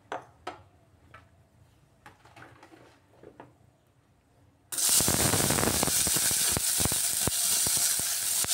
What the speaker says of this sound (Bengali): এবার এই আলু ভাজার তেলের মধ্যেই আমি পটলটাকেও ভেজে নেব।